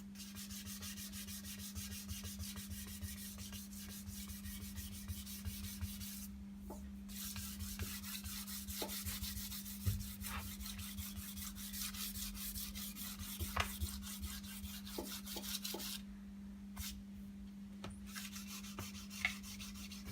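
Steady scrubbing of a Scotch-Brite abrasive pad over the finish of a Telecaster-style kit guitar body, a continuous close rubbing rasp with brief pauses and a constant low hum beneath, no talking.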